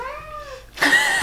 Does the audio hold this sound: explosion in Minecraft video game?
no